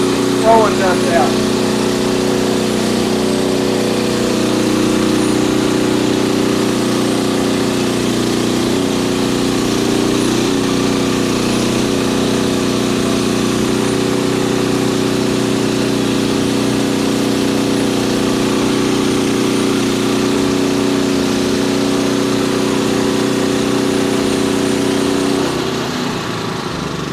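A portable sawmill's small engine drones steadily at close range while the blade makes an 18-inch cut through a 6x6 red oak fence post, a constant loud hum that holds for nearly half a minute before easing off at the end.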